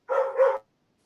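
A dog gives a double bark in quick succession, loud and close, followed by silence.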